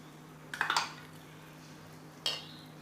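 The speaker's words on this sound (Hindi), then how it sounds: "इसको अच्छे से चला लेंगे।" A spoon clinks against a pan while dahi aloo, potatoes in yogurt, is stirred: a quick cluster of three or four metallic taps, then a pause and one more clink, faint and near, over a low hum.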